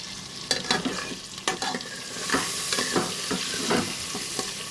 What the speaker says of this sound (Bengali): ওগুলো ভাজা ভাজা হচ্ছে